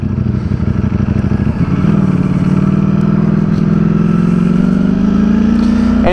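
Streetfighter motorcycle engine running steadily while ridden in sport mode, a loud, continuous buzzing drone that rises slightly in pitch as the revs climb, with no talking.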